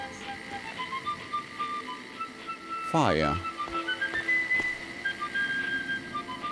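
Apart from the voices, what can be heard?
little robots whistling music in video game Fallout 3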